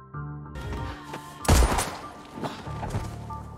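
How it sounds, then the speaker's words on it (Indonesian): A film gunshot goes off with one loud, sharp crack midway, over sustained background music that carries on around it. "dengan kejamnya Andi langsung menembak Neil hingga Neil pun tersungkur"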